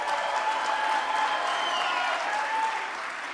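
An audience at a G20 summit applauds steadily, a dense sustained wash of many hands clapping in a large hall that holds even and moderately loud before easing slightly at the end.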